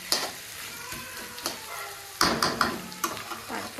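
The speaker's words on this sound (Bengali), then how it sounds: "এই ঘরে হচ্ছে আলু, গাজর আর বিনস ভাজা।" Potatoes, carrots and beans fry in a pan with a close, soft sizzle, while a utensil stirs and scrapes them in irregular knocks and bursts, louder toward the end.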